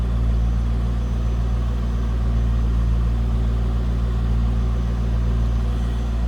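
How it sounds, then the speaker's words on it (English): A 1998 Chevrolet Corvette C5 coupe idles steadily with a deep, smooth rumble from its true dual exhaust with catalytic converters intact, heard close at the rear with no talking. "Nothing crazy over the top for exhaust, just a good sounding C5 Vet."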